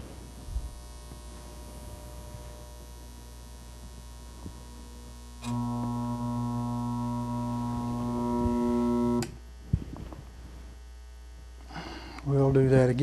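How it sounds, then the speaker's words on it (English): Steady electrical hum from a laboratory power supply running a magnetic amplification motor setup, droning constantly throughout with a louder, richer buzzing stretch in the middle and brief talk near the end. "You're going to hear a humming noise. It's coming from the power supply I'm using."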